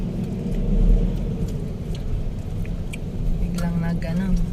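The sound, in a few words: road traffic, cars passing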